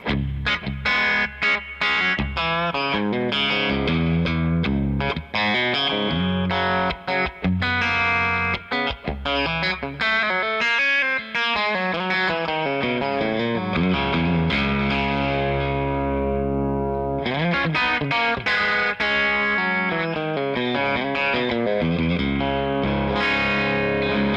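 An electric guitar plays through a Jackson Audio compressor pedal. Chords and single-note riffs sound loud, even and sustained with a distorted edge and sharp choppy stops, and no one talks.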